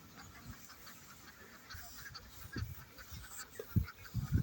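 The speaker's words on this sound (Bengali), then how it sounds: "দেখুন হাঁসগুলো কত সুন্দর খেলে বেড়াচ্ছেন।" Farm ducks kept near a canal give faint, scattered quacks and low honking calls, growing a little louder and more frequent toward the end over a quiet outdoor background.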